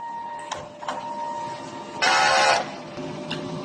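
A DTF printer running its print head cleaning cycle, with a loud, bright burst of mechanical pumping and whirring lasting about half a second, preceded by two short clicks over a steady electronic hum.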